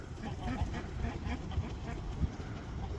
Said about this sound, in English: Go, ducks, go.